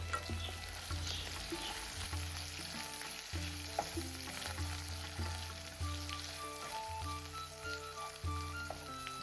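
Curry leaves and spices sizzle and crackle in a hot pan for a pork curry, steady frying with scraping stir strokes, close and fairly quiet, with no voices.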